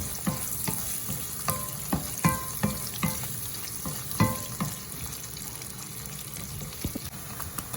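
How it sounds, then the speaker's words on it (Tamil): Paneer masala frying and being stirred in a pan, a steady sizzle broken by sharp spatula scrapes and clicks in an irregular rhythm, close and moderately loud with no voices. "எல்லாத்தையும் கிளறி போட்டு ஒரு ஐம்பது வீதம் பொரியிற மாதிரி"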